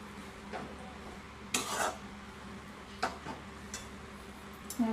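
Vegetable fried rice stirred in a pan, a few faint scraping and clinking strokes of a spatula against metal, spaced irregularly over a quiet background with no talk.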